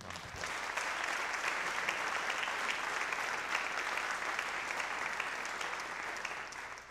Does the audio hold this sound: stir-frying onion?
no